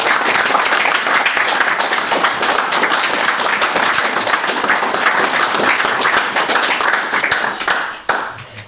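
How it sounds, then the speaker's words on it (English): Audience applause at the opening of a peace and purpose centre in Bolton, loud, close clapping from a modest crowd that holds steady for about seven seconds and then dies away. "Let's give a huge round of applause to these guys."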